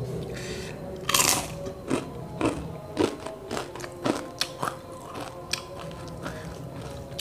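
Crispy fried spinach leaves coated in flour batter, a Padang snack, are bitten and chewed close up, giving a loud first crunch followed by a string of irregular crackly crunches.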